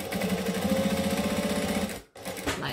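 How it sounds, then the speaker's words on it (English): Close and loud, a sewing machine top stitches folded vinyl on a Devon pouch with a fast, regular needle rhythm, then cuts off briefly before starting again. "So now I'm just going to fold over the vinyl and top stitch it down because it's going to look prettier."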